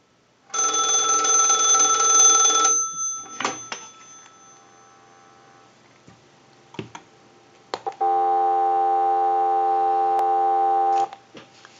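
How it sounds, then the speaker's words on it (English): A 236G three-slot payphone rings once loudly, then handset clatter and clicks follow, and a steady dial tone comes in and holds for several seconds before cutting off. "we'll give you some dial tone"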